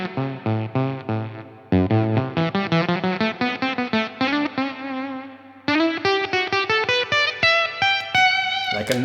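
Electric guitar through an underpowered Silktone germanium fuzz pedal giving a sputtery, lo-fi gated tone, with choppy picked notes and short chords played in bursts, moderately loud, with no voices.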